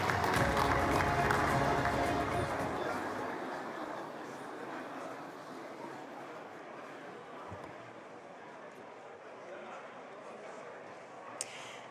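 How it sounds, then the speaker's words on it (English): Applause from a large audience as guests are welcomed onstage at the opening of a high-level presidential dialogue, loud at first then thinning and fading into a softer sustained patter under background sound. "A round of applause as we start into this high-level presidential dialogue, welcoming the guests to the stage."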